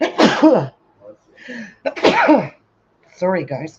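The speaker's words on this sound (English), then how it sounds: "I just had a sneeze attack too" Two sharp sneezes burst out close to the microphone a couple of seconds apart, during a crochet granny square demonstration, followed by a brief spoken apology.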